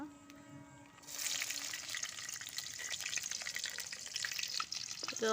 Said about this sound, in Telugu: ఆయిల్ అయితే వేడైంది ఫ్రెండ్స్. ఇది ఆనియన్స్ అయితే వేస్తున్నా